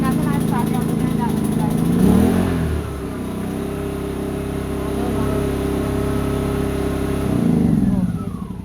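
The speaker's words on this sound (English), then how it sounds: "And then after I start, you have to turn that" A Stanley SIG 1700 inverter generator's small petrol engine runs steadily nearby, surging in revs twice, with voices talking over the hum.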